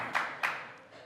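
An audience member at a political panel at the Albany Club bangs a cheering stick, giving two sharp, close knocks in quick succession.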